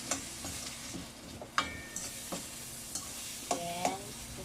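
Sautéed mung beans are stirred in a frying pan, a soft ongoing sizzle broken by several clinks and scrapes of the spoon against the pan.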